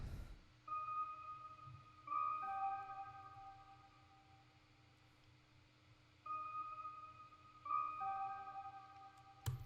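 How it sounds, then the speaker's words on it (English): Gentle Analog Lab synthesized bell tones ring out in short clusters, each chiming note lingering and fading over a quiet, steady background. "And then the second thing we added was this bell sound,"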